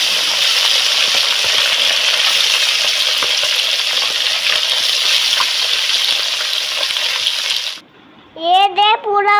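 Fish coated in salt and turmeric fries in hot oil in a pan, giving a loud, close, steady crackling sizzle that runs for several seconds before a voice cuts in at the end.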